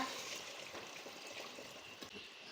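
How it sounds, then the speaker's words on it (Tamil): Tamarind water poured into a pot of fish curry, heard as a steady, faint liquid rush of pouring with no break and no talking. "இப்போ அந்த புளி தண்ணியை உள்ளே சேர்த்துக்கோங்க"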